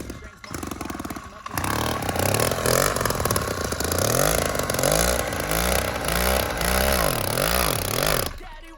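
A motorized bicycle engine, with its drive chain set very tight, coughs to life after a second of clatter and then runs loud and close, revving up and down in repeated rising and falling surges with a rough, sputtering note.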